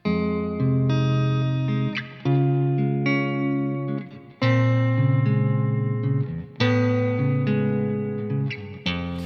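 Clean electric guitar chords ring out in a steady progression, each chord struck and left to sustain, with a few short breaks between changes; no voices.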